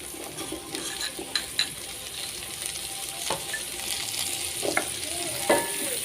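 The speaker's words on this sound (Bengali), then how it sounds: "আবার হালকা একটু নেড়ে দেব।" Carrots and yardlong beans stir-fry in a pan for fried rice, giving a steady sizzle broken by sharp scrapes and clicks of a utensil against the pan at irregular moments. No one speaks.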